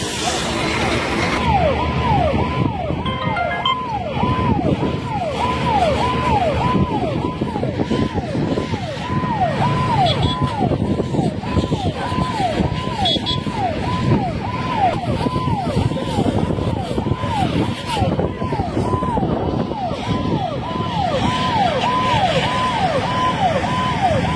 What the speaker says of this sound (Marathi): अग्निशमन दलाच्या गाडीनं आता आग नियंत्रित करण्याचा प्रयत्न सुरू केलेला आहे